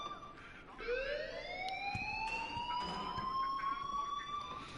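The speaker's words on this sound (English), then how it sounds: "please turn off that alarm since that's your job" In the video game Life is Strange, a school alarm wails as a rising siren tone that keeps sounding steadily at moderate volume, with faint background clatter.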